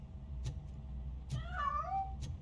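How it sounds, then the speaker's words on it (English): A cat in the RoboCop: Rogue City video game, hidden inside a piano, lets out a drawn-out meow mid-clip, with a few soft clicks before and after over a low ambient hum. "That cat must be hiding inside."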